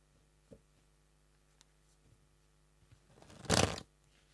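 Tarot cards are shuffled close up in one brief, loud riffling burst after a few soft taps and handling sounds.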